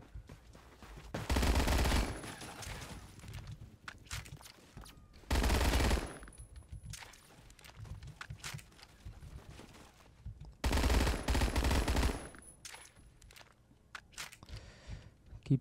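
PPSh-41 submachine gun in Roblox Phantom Forces fires three long full-auto bursts, loud and close, with quieter clatter and faint movement between them.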